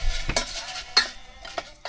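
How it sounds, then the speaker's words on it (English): Tuna pasta cooking in a pan inside a camper van gets stirred, with several quick utensil scrapes and clinks against the pan over a soft sizzle, close and brief, without speech. "Give that a stir, just whilst it's still cooking."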